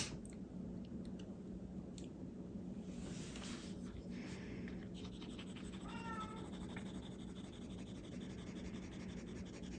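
A cat meows a few times, faint and brief, over a low steady room hum, with scattered small rustling and handling noises around it.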